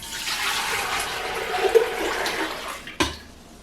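Tap water gushes steadily into a pot to be set boiling for fideuà, a broad rushing spray, and ends with a hard clunk near the end.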